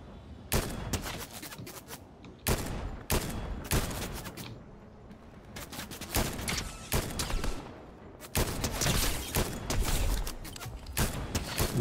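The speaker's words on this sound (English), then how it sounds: "We got a lot of people shooting at us." Bursts of rapid gunfire from Fortnite, loud sharp volleys separated by short pauses, with some shots near and others more distant.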